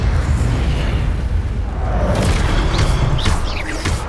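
In Hogwarts Legacy, the Incendio fire spell erupts as a loud, sustained roaring blast of flame with rumbling low end, later streaked by swishing magical whooshes, with no talking.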